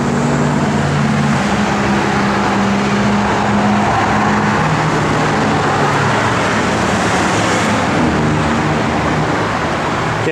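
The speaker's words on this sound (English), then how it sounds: "late model 350 cubic inch engine, dialed up real nice underneath the hood here" A 1964 Chevrolet C10 pickup with a late-model 350 cubic inch V8 and Holley 4-barrel carburetor idles steadily, a continuous low rumble with broad mechanical hiss, heard close up under the hood with no talk.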